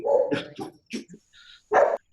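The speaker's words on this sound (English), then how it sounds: "Now my dog's going too." A dog barks in a few sharp, loud bursts, close by, with short pauses between the barks.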